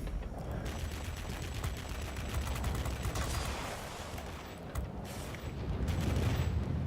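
An aircraft gun fires in World of Warplanes, from a Messerschmitt P.1092 jet. Dense, continuous rattling bursts run under steady engine roar, loud and close throughout.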